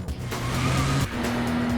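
A Kia Stinger GT 3.3 tears around the Nürburgring, its engine note rising in pitch, dropping briefly at a gear change, then climbing again, loud and close with faint tire noise and no voices.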